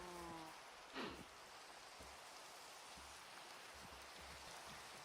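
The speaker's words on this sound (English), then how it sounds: "Does it need to rain almost every day in the game?" Steady rain falling in Minecraft, a constant soft hiss of drops with a brief louder swell near the start and faint low thumps underneath, no voices.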